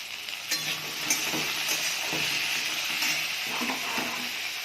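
Bitter gourd with potato fries in a pan, a continuous close sizzle with occasional stirring scrapes and light clinks of a utensil, no voices.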